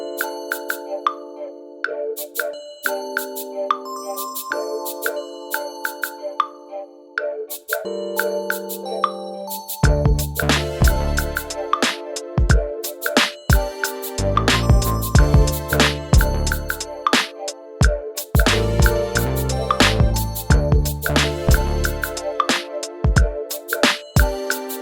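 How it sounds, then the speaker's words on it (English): Electronic music beat built in Korg Gadget 3 with bell and Triton synth sounds, opening with sparse melodic tones before heavy drums and bass kick in for a dense, rhythmic loop. "So here's the whole beat."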